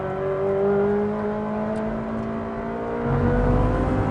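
A car pulling hard in fourth gear on torque, its engine note droning steadily with rising harmonics and a deeper surge toward the end, heard from inside the cabin with no voices.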